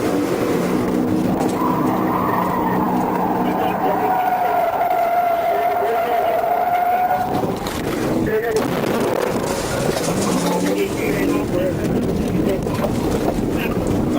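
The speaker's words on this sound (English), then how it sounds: "both units launch southbound as the suspect suddenly races past them" Cars in a high-speed police pursuit on a southbound road, with police units chasing a fleeing suspect car. Loud, continuous engine roar and wind rush with a rising, whining tone, then a rougher burst of road noise.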